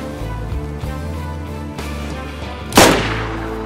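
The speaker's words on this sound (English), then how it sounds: "Nade on me. I just got naded." A grenade explodes in the video game DayZ, a single sharp loud blast rising over a steady droning background hum and fading quickly.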